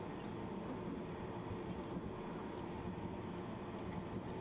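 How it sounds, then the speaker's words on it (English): A train in the simulator game Train Drive ATS rumbles along at speed, a dense, steady roar of wheels and motion with faint clicks, continuous and close. "Hello, train."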